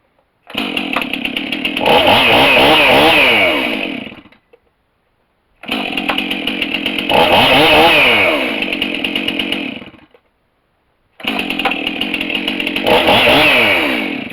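Chainsaws after a cold start, three loud revving bursts of close engine roar separated by short silences, rising and falling in pitch with throttle.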